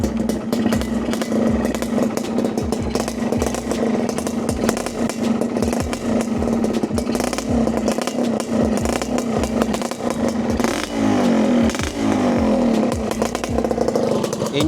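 A Yamaha 125ZR two-stroke motorcycle engine idles close by, with a steady, buzzy two-stroke drone that holds evenly throughout and no voices over it.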